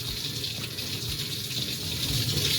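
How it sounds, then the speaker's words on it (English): Tap water runs steadily into a sink as stainless thermal wells, fresh from a PBW cleaning soak, are rinsed off, a continuous close splashing gush with no talk. "Last thing I need to do is just rinse off my thermal wells"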